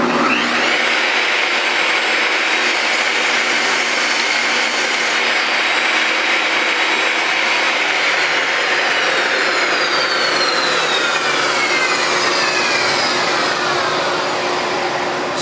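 A power saw trims the edge off a wooden board in a woodshop with a miter saw and table saw, a loud steady whine and roar of the blade running through the cut for about fifteen seconds with no talk.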